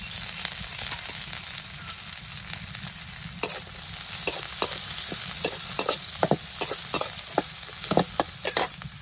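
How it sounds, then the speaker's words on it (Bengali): Onions and green chilies frying in oil, with a continuous sizzle broken by frequent sharp crackles and the scrape of stirring, close and fairly loud, with no voices. "পেঁয়াজ কাঁচামরিচ গুলো ভালোভাবে ভেজে নিব।"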